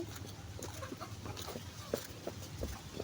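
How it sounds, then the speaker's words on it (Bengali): Chickens in a rural village yard give short, scattered clucks and squawks over a steady low hum and faint outdoor background, moderately near but not loud. "এখানে হচ্ছে মুরগি"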